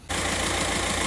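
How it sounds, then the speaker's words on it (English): A 2006 TDI diesel engine with a low-boost fault idles steadily and close by, a continuous loud rumble with a faint rhythmic knock throughout, starting right after a brief silent moment. "I hope you can hear me over the sound of the engine"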